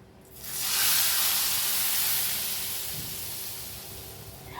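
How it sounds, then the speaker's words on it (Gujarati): Hot tempering of dried chillies and asafoetida poured onto dal gives a sudden loud sizzle that swells and then slowly fades to a softer hiss. "વઘાર બરાબર તૈયાર થઈ જાય ત્યાર પછી એને દાળ ઉપર રેડી દઈશું."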